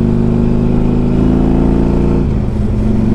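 2003 Harley Davidson Electra Glide Ultra motorcycle engine while riding, a loud steady low rumble with a brief dip in revs near the end, close and continuous without talk.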